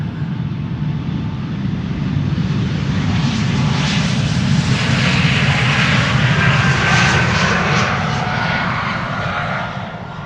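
A loud, sustained roar of airliner jet engines at close range during takeoff at Amsterdam Schiphol Airport, with a rising whine layered over a heavy low rumble that holds steady for about ten seconds.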